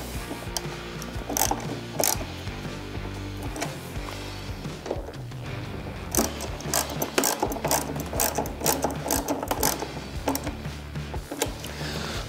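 A ratchet wrench tightens bolts on a color-matched spoiler on a 2022 Harley-Davidson Road Glide ST, clicking in quick repeated runs of pawl ticks, close and fairly loud, with no talking.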